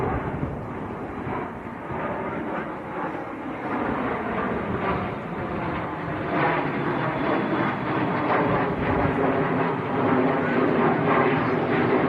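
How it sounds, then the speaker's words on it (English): A Luxembourg-registered Challenger business jet climbs out on a windy day at Manchester Airport, a moderately loud, sustained jet rumble with a slowly swelling roar across the whole stretch. "Now the Luxembourg Bizjet, the Challenger."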